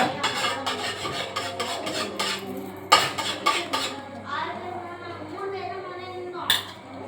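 Yellow colouring powder being stirred into a mixture in a metal pot, with rapid scraping and clinking strokes of a spoon against the pot, close up, alongside a person talking.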